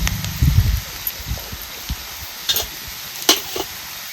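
Homemade onion-garlic masala goes into a pan of roasted onion: a few soft thuds and spoon taps, then light stirring and faint scattered crackles, heard close with no talking.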